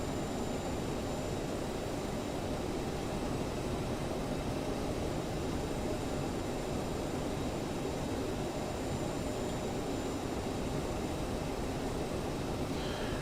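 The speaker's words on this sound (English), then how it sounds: "Alright, left engine stable and started" Aerosoft CRJ regional jet engine spinning up in Microsoft Flight Simulator, a steady broadband roar with a faint high whine, constant and unbroken throughout.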